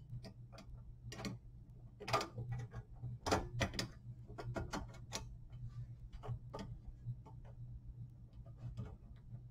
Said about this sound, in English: let's go ahead and get the locking collars for this one tightened down